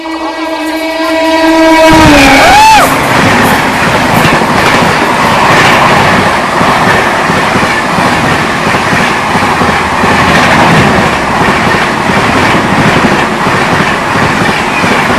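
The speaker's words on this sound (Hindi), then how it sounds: "वो देखिए आ रही बाड़मेर एक्सप्रेस।" Barmer Express rolling past on the rails: a loud horn blast opens with layered harmonic tones, then a close, sustained roar of coaches passing with rhythmic wheel clatter, no voices.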